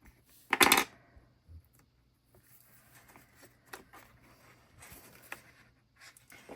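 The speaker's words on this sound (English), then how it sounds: "I'm just going to cut this one closer to his tail instead of having a big gap." Scissors snip through sticker paper in a few crisp, close cuts, starting with one louder snip and followed by quieter scattered clicks and rustles.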